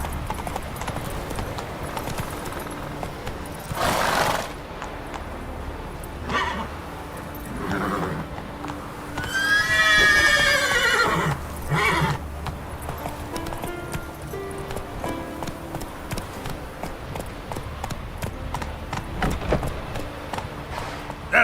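Roach, a horse in a video game, trots with steady clip-clop hoofbeats and lets out a loud whinny partway through, over game ambience.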